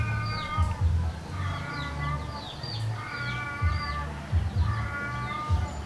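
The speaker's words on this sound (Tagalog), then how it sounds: "Pati yung pusa nakisabay din." Cat meowing repeatedly in a kitchen while grilled pork sinigang is being cooked, several drawn-out meows close by in a steady rhythm over a low background hum, with faint bird chirps mixed in.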